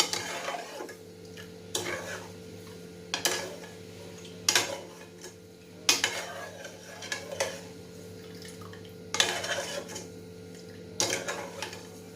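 A spoon stirs milk in a pot over a high flame while mango pudding is being made. The metal strikes the pot in soft, regular scraping clinks about every second and a half, over a low, steady hum.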